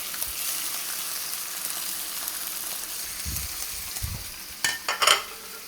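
Bacon slices frying in a pan for burgers, a steady crackling sizzle with a few low stirring thumps and short clattering sounds toward the end.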